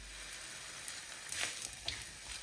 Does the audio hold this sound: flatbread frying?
yes